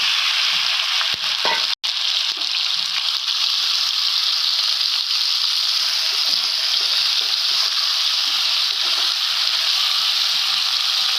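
Boiled finger banana pieces frying in a pan with urad dal and curry leaves make a loud, continuous close-up sizzle, steady throughout with faint stirring scrapes underneath.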